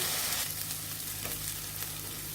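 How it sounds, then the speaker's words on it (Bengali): Ground spices sautéing with a splash of water in a pan for a chickpea curry give a steady soft sizzle and bubbling, with a low hum underneath and faint scrapes of stirring. "এখন একটু জল দিয়ে মশলাগুলো ভালোভাবে কষিয়ে নিব।"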